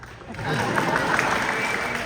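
A small group claps steadily for a couple of seconds, a dense patter of hands with a voice faintly mixed in.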